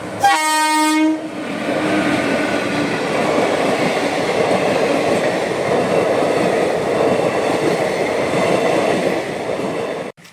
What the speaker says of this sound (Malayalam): മറു ട്രാക്കിൽ ചൂളം വിളിച്ച് വീണ്ടും തീവണ്ടി എത്തുക